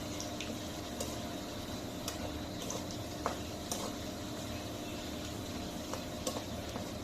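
Garlic and chili frying in oil for a winter-morning khichuri, a steady close sizzle with occasional crackles and faint utensil clinks and stirring taps, no voices.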